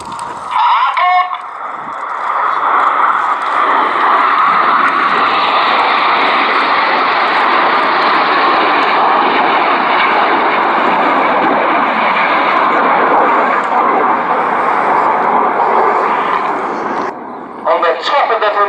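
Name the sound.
Panavia Tornado jet aircraft flying past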